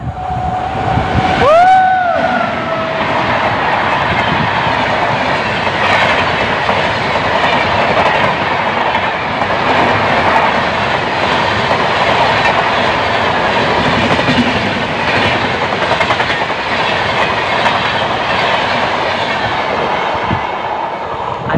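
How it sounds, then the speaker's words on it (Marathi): The Mumbai Rajdhani Express rushes over a bridge, loud and close, with a horn blast near the start. A continuous roar follows, along with rhythmic clickety-clack of the wheels as the carriages stream past. "मुंबई राजधानी आता चालली ती म्हणजे सुरतला"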